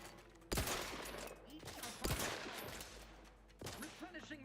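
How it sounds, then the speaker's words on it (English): Gunfire from an inaccurate gun in the Outer Worlds 2 video game: three loud bursts of shots, each followed by a short rattling tail, spaced about 1.5 seconds apart, with faint game sounds between them. "Not very accurate with this gun."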